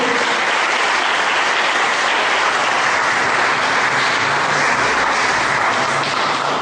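Church congregation applauding during a worship service, a dense, steady wash of many hands clapping at full volume throughout with no pauses.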